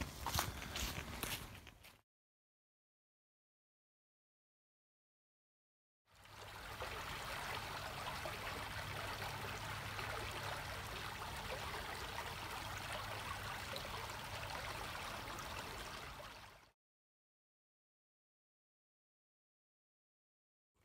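Perdido River flowing outdoors on a hiking trail, a steady broadband rush of moving water lasting about ten seconds, preceded by a brief burst of similar noise and separated by silent gaps.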